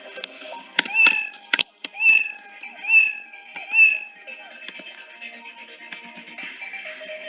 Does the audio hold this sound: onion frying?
no